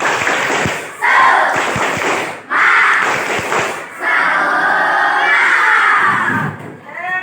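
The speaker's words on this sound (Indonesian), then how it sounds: "Satu kali lagi, tepuk semangat." Schoolchildren in a classroom perform a rhythmic spirit clap, loud chanted shouts in bursts separated by short pauses, punctuated by sharp claps and thumps, with a teacher's voice near the close.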